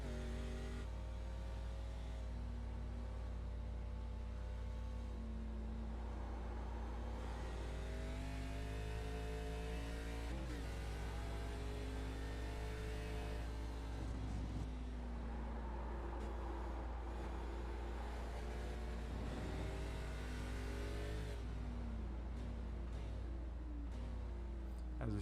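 A race car engine heard on board during a lap of Sonoma Raceway in a sim racing game, droning steadily and loudly throughout, with its pitch rising and falling through gear changes and corners.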